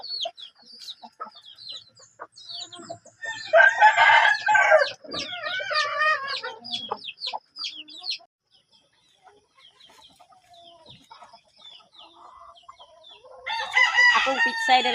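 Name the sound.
chickens clucking and roosters crowing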